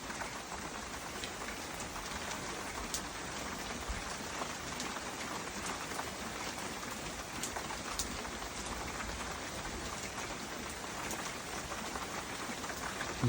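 Heavy storm rain pours down steadily onto surfaces around a deck, a dense continuous hiss and patter with no talk, unbroken for the whole stretch.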